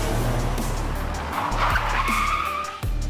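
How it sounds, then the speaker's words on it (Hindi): A cartoon car pulls up with a sustained, loud tire skid and screech over a roaring engine, continuous throughout and heard alone. "तभी वहाँ पर पीछे किसी की गाड़ी की आवाज सुनाई पड़ती है।"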